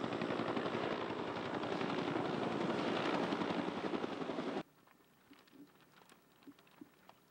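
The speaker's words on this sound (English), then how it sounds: "They're dumping water and or foam on it with the heavy helicopters" Heavy firefighting helicopters working a wildfire near Big Sur: loud, close rotor chop and engine roar pounding rapidly for several seconds, then cutting away to a quiet outdoor background with a few scattered faint knocks.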